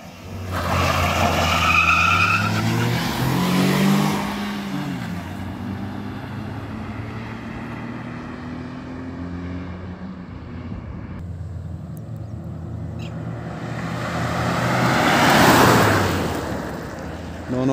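Maruti Suzuki Swift and Tata Tiago hatchbacks launch in a drag race, engines revving hard with tire noise, fading away mid-run and then rising again as the cars approach, with people talking faintly in the background.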